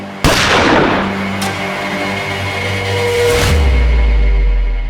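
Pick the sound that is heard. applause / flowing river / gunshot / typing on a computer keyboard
gunshot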